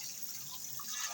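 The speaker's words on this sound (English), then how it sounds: "you want to put more water." Water pours steadily into a cooking pot for a chicken curry, a soft continuous hiss and trickle heard close and fairly quiet, with no talk.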